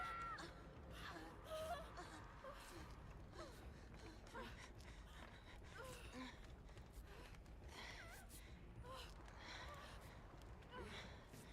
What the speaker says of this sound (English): most of the survivors have their own, like, breathing sounds